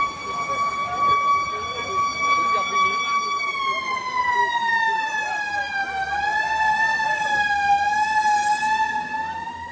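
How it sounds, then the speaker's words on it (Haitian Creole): A fire engine siren wails loudly and steadily as firefighters arrive, its long held tone dipping and rising slightly over about ten seconds, with faint voices in the background. "Les pompiers viennent là. Les pompiers qui viennent là."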